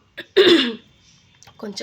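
A woman with a sore throat and cough clears her throat: one strong rasping burst, a brief pause, then a couple of shorter, softer clearing sounds, close and alone.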